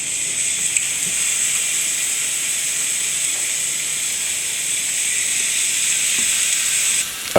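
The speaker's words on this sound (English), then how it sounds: "we just had to hear that sizzle for a second" Steady, bright sizzling hiss of steak frying in butter in a hot pan, loud and close, continuing unbroken for several seconds.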